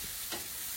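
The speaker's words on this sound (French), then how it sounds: "Dans la même poêle ou casserole, je mets de l'ail et des oignons. Donc je les fais revenir." Garlic and onions frying in a pan, a soft continuous sizzle with one brief stir or scrape in the middle, close and fairly quiet, with no talk.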